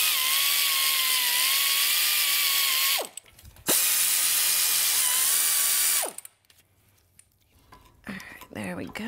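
A ratchet clicks steadily up close while a large brake caliper is removed from a full-float truck axle, with two long runs of rapid clicking separated by brief pauses and a quieter stretch at the end.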